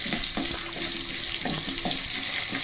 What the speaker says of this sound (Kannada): ಇದು ಕೂಡ ಒಂದು 2 ನಿಮಿಷ ಎಣ್ಣೆಲ್ಲ ಚೆನ್ನಾಗಿ ಫ್ರೈ ಮಾಡಬೇಕು ಈರುಳ್ಳಿನ